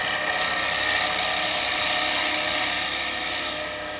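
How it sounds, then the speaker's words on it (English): A spindle gouge cuts into wood spinning on a lathe, giving a steady, loud, close-up hissing whir that keeps going without a break and fades slightly at the end, with no talking. "I'll just use my spindle gouge again. I'll come in here, I'm going to pick up the cut."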